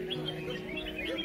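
Red-whiskered bulbuls chirp and warble in quick, bright phrases at a bird-singing contest, their calls overlapping against a steady background hum with faint murmuring nearby.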